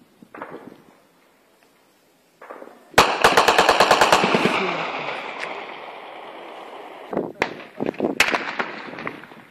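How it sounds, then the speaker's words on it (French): Heavy weapons fire in the city of Kidal: a long rapid burst of loud automatic gunfire rattles out after a few isolated shots, followed by scattered sharp single reports, with a voice speaking faintly in places. "nous entendons dans la ville de Kidal des tirs à l'arme lourde"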